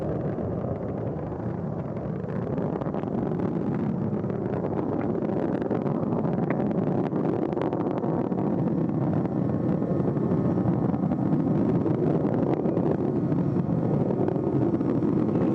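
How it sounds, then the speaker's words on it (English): Space shuttle Atlantis main engines roar during launch as the vehicle goes transonic, a steady, dense, broadband rumble with wind-like buffeting that holds at full strength throughout, with no voices over it. "Engines now revving up"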